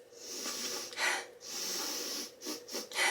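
Congested nasal breathing through a stuffy nose after nose surgery, close up with several strained, hissing inhales and exhales and short snorting bursts.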